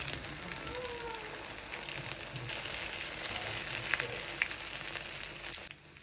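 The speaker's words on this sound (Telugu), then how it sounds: "ఉత్తప్పాన్ని రివర్స్ తిప్పుకున్నాక ఇలాగ కాల్చుకొని పక్కన పెట్టుకోవాలి." An uttapam topped with onions, ginger and coriander roasts on a hot pan, giving a steady, soft sizzle with scattered small crackles throughout and no voices.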